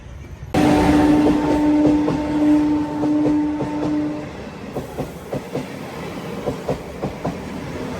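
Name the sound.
Bangarpet MEMU train passing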